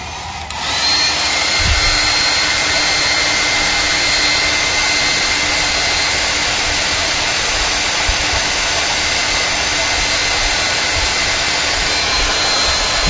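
A hair dryer blows steadily over drying artwork, a loud continuous whooshing roar with a thin whine that switches on at the start and runs unbroken throughout.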